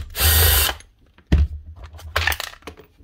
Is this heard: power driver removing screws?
yes